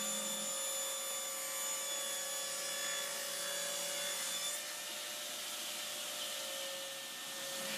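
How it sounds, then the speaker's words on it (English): Table saw ripping three-quarter-inch walnut strips, a steady loud whine with a continuous high hiss of blade cutting through hardwood, sustained for several seconds with a slight change in tone midway, no voices. "I'm now cutting some 3/4 inch strips of walnut out here at the table saw"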